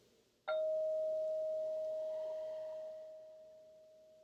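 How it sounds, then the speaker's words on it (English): A single bell is struck once during a mindfulness exercise, ringing out with a clear, steady tone that slowly fades over several seconds in a quiet room. "I'll ring the bell here and see if you can follow the sound till it completely stops"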